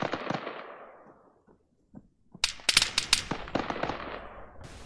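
ARMA 3 gunfire: a distant shot decays, then after near silence a rapid crackling volley of cracking rounds erupts, sharp and irregular.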